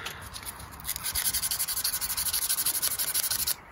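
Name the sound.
hand sanding wood with 280 grit sandpaper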